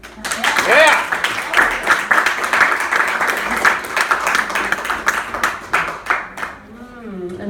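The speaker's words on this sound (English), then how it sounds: "Another round of applause for Hal." Audience applause and cheering at a live poetry reading, steady clapping from a nearby crowd with a voice talking over it throughout and fading toward the end.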